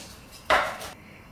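One knife stroke slicing through pork belly on a board, a short, close cutting thud with a brief scraping tail, otherwise quiet.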